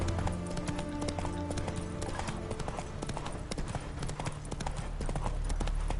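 A horse's hooves clip-clop at a brisk, steady pace in The Witcher 3 video game, close and continuous over the whole stretch, set against game ambience.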